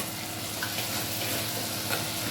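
Tomatoes fry with ginger garlic paste in a pan, giving a steady close sizzle with soft crackles and no talk over it.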